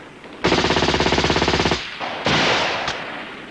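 Rapid machine-gun fire from a mixed force of tanks and infantry, a loud sustained burst of evenly spaced shots followed by two shorter heavy bursts, with no voices.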